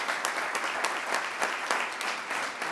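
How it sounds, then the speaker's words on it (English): Audience at a school district board of trustees meeting gives a steady round of applause, moderately loud and sustained with scattered individual claps standing out. "And a big round of applause for you as well, Braden."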